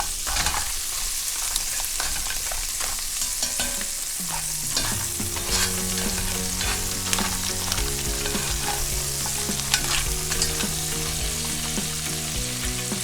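Crab sautes in a pan with a steady, loud sizzle, broken by frequent scraping and stirring knocks, close by and with no talk.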